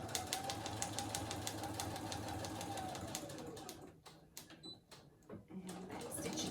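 Embroidery machine stitching a back stitch over a label on a baby heirloom blanket, a steady rapid needle clatter that runs on, then stops and stutters in short bursts near the end.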